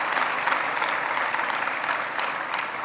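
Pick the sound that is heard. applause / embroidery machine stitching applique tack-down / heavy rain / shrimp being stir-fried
applause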